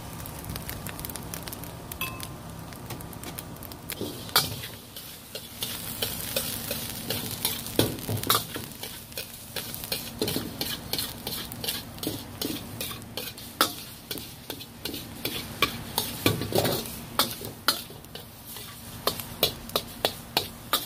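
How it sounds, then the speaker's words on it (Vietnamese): Egg yolk frying separately in a pan for Yangzhou fried rice, a steady close sizzle with repeated scraping and stirring clicks of a utensil against the pan throughout, no talking. "Bây giờ mình đổ lòng đỏ trứng vô, mình chiên riêng nha."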